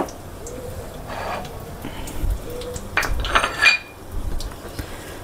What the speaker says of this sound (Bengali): জিরে, সর্ষে, শুকনো লঙ্কা আর হিং দিয়ে এটা একটু নাড়াচাড়া করে নেব।